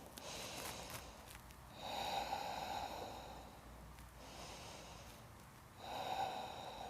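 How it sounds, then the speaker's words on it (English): Slow, deep breaths during a plank exercise, heard up close as two long airy exhales with quieter breathing between them. "Press the ground down and give yourself 3 solid breaths."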